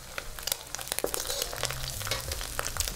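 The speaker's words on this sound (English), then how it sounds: "Stir fry all of your aromatics with your pork." Garlic and other aromatics stir-fried with pork during eggplant cooking, giving a steady hot sizzle with scraping and clattering stirs throughout.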